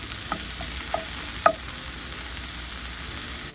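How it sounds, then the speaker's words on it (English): About 4 ounces of white mushrooms sauteing in canola oil, with a soft, continuous sizzle and a few light stirring scrapes, one sharper knock near the middle. "So I have about 4 ounces of white mushrooms. I'm going to saute them for a few minutes."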